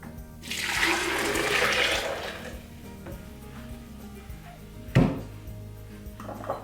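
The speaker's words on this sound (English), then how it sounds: "I just pour it from the bowl back into the blender." Almond milk poured from a bowl back into a blender, a broad watery splashing pour in the first couple of seconds, then quieter handling with a sharp knock midway, no talking.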